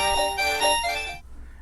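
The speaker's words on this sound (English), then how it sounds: "every time that the doorbell is pressed, it will also activate the chime, which was the sound that you just heard a few seconds ago" An XTU J7 wireless WiFi doorbell chime rings indoors, a bright multi-tone electronic melody lasting about a second, loud and clear before cutting off to near silence.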